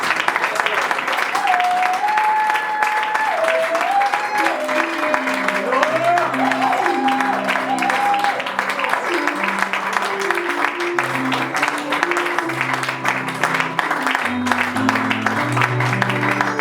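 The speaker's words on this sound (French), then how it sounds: "C'est pourquoi nous allons acclamer encore pour Jésus-Christ." A church congregation applauding and cheering for Jesus Christ, steady sustained clapping from a crowd, mixed with sung or hummed melodic tones and voices, filling the whole stretch at an even loud level.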